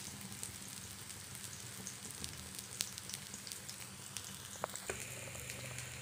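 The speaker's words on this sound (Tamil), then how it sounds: "கோல்டு கலரில் இந்த அளவுக்கு ஃப்ரை பண்ணால் போதும், ஃப்ரை பண்ணி நம்ம எடுத்துக்கலாம்" Veg frankie filling frying in hot oil over a medium flame, a steady soft sizzle with scattered crackles and pops running throughout without any voices.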